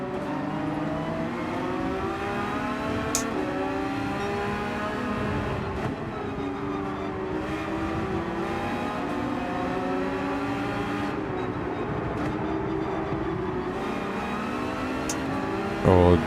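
Dodge Viper engine in Gran Turismo 7 on Trial Mountain, a continuous loud drone with pitch sweeping up and down through repeated gear changes and corners, with a few sharp clicks and a louder burst at the end.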